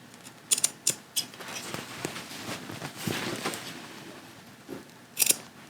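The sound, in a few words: scissors clipping fabric to a dot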